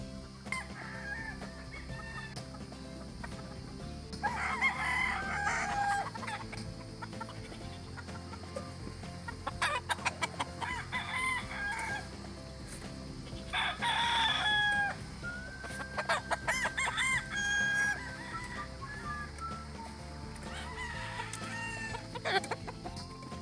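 Chickens and roosters in a farm range area, with repeated loud cock-a-doodle-doo crows standing out over a steady background of clucking and flock chatter, several crows arriving in bursts close to the listener.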